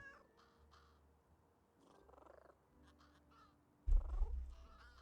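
Crow cawing in the video game Little Kitty Big City, a few short rough calls spaced out over a quiet game soundtrack, followed by a louder burst near the end.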